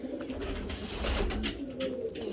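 Pigeons coo softly at close range near a nest where one bird sits on eggs, with low, repeated throaty calls overlapping for a couple of seconds.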